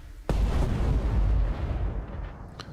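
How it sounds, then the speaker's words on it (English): Mortar fire in the turn-based war game Burden of Command, one heavy booming blast followed by a long rumbling roll that slowly fades, with a faint pop near the end. "Let's use the mortar there."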